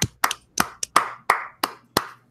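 A single person claps alone, about eight sharp, separate claps at an uneven, slowing pace, close and moderately loud.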